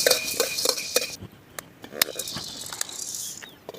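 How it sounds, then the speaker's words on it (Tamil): Black peppercorns roasting in a pan for homemade sambar powder, with faint crackling and sharp clinks of a spoon stirring against the metal, and a few light scraping taps. "ரெண்டு கூணு மிளகு கொட்டுறேன் அது நல்ல மொ மிளகு நல்லா பொரியணும்"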